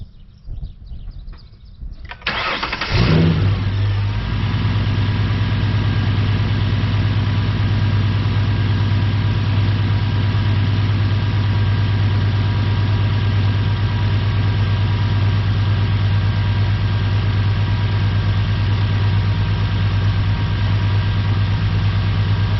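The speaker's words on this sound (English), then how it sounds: "let's just start it up so you guys can hear the engine" A 2008 Ford Mustang S197 engine cranks and catches after a few seconds of quiet, then settles into a steady, loud, rumbling idle that continues unchanged.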